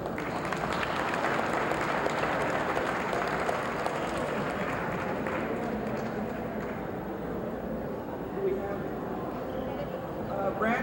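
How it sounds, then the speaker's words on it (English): Sustained audience applause for an honoree at the 1987 Torrance, California 75th anniversary city celebration, a steady dense wash of many hands clapping that holds at an even level for the whole stretch. "Would you please congratulate with your applause our last honoree"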